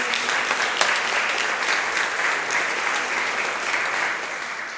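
A large audience applauds at a Serpentine arts event, sustained and evenly dense clapping that fills the room, then eases off slightly at the close.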